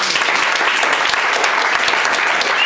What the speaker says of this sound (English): Please clap for mama.